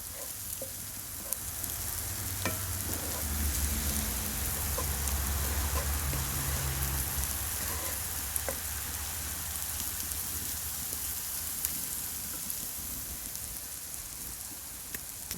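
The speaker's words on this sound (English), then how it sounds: "right now, I'm just working up some sloppy Joe" Sloppy joe meat sizzles steadily in a cast iron pan at a camping cookout, a continuous close frying hiss with faint clinks and no talk.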